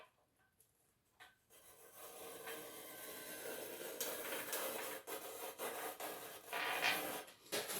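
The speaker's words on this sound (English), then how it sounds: "I'm angling my nail so it digs in. You can hear that digging in." A nail scribes a line into wood for a DIY motion sim rail, producing a steady, close scratching rasp that starts quiet, then grows rough and continuous with small breaks.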